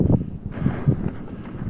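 Gusty wind buffets the microphone with low rumbling bursts and a brief airy rush, no voices.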